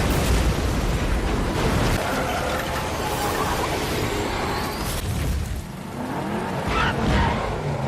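A car rolls over in a tornado film scene, a dense, loud crashing and grinding roar throughout with bursts of impacts and debris, no pause in the din.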